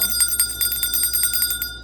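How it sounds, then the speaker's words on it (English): A small bell rings during a talk on tarot and oracle card spiritual practice, sounding as a steady run of rapid, light, bright strikes at moderate loudness with no talking over it. "you can ring a bell"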